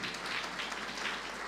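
Church congregation clapping during a sermon, a steady, moderately soft wash of applause from many hands, continuous throughout the short stretch.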